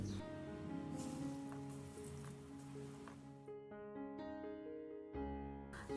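Red lentil fritters (piyaju) fry in hot oil with a constant crackling sizzle like steady rain, held under a sustained tonal hum that fades partway through.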